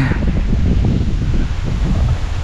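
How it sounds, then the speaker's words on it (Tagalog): Strong wind buffets the microphone in a dense, fluttering low rumble with gusty surges, loud and close for a couple of seconds with no voices. "Ang lakas ng hangin."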